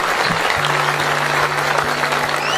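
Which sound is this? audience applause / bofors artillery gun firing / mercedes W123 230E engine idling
audience applause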